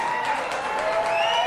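Applause from the crowd at a televised World Poker Tour invitational table, a steady wash of clapping that fills the moment evenly, with faint tonal studio background beneath it.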